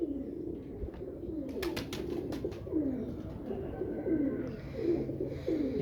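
Pigeons cooing in a loft, repeated soft throaty coos rising and falling in a steady rhythm, close and continuous, with a few flutters and faint chirps in the background.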